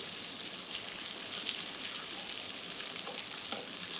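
Turnip slices fry in a hot pan over medium heat, giving a steady, loud, close sizzle with a dense crackle that holds evenly throughout, with no voices.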